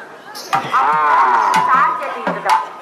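A cow gives loud, close, drawn-out moos that rise and fall in pitch, one long call running into another, with a few sharp knocks in the background.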